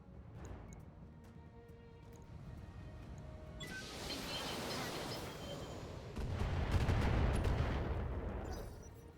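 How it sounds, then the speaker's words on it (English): Long range missiles fired indirectly by a mech in BattleTech, a rising whooshing rumble that swells into a broad roaring salvo, then surges louder and deeper before fading, with no speech over it. "Now with our long range missiles we can indirectly fire."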